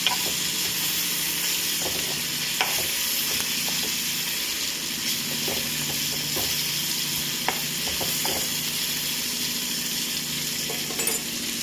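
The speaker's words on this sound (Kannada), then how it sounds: "ಟೊಮೆಟೊನ ಒಂದು ತೊಳೆದು ಕಟ್ ಮಾಡ್ಕೊಂಡಿರೋ ಟೊಮೆಟೊ ಹಣ್ಣನ್ನು ಹಾಕಿ ಸೇರಿಸ್ಬೇಕು" Chopped tomato sizzling and frying in a pan, a steady hiss running throughout with scattered stirring clicks and scrapes, fairly loud and close, no voices.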